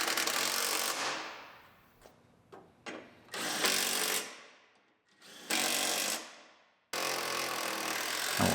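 Loud bursts from a power tool tighten bolts on brackets of a 2013 Buick Enclave AWD, several long runs broken by short taps and gaps, close and with no talking.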